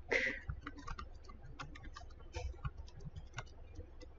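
Quiet keystrokes on a computer keyboard while entering a command in a command prompt window, a faint irregular run of light clicks at close range with no voices.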